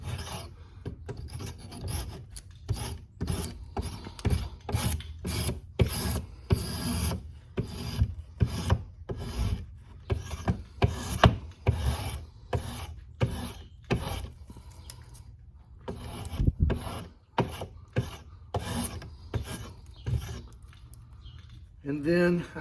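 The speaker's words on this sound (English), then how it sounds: "And now I'm going to use a spoke shave" A spokeshave shaves wood off a guitar neck in a quick series of rasping strokes, each a short scraping burst with brief gaps between, close by and moderately loud.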